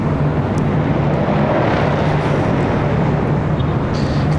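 An airliner climbing out of LAX in an easterly turn toward Phoenix produces a loud, even jet rumble with a low engine hum that holds steady throughout.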